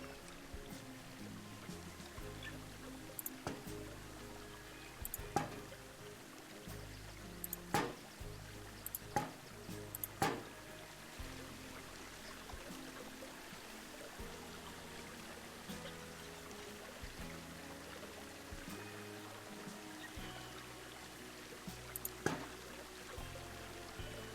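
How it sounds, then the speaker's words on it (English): Simulated waterfall with a 5-meter drop in the zoo-building game Planet Zoo, a continuous soft splashing pour of water with scattered sharper drips and clicks, faint and steady throughout. "we want waterfall, we want a 5-meter drop for this one"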